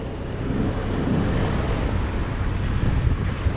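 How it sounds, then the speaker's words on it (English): Steady wind roaring across a sailboat under a loose, flapping genoa in 10 to 12 knots on the beam with whitecaps: a dense, continuous rush of wind and sea noise buffeting the microphone, without pause or talking. "a bit of a flappy genoa, a few white caps, 10 or 12 knots of wind on the beam"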